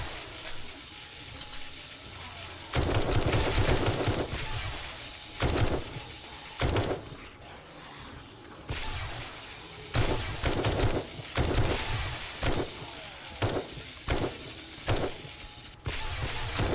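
Shotgun blasts in the survival video game 7 Days to Die during a wasteland horde fight: repeated heavy booming shots at irregular intervals, each a loud broadband burst, over a steady background of game noise.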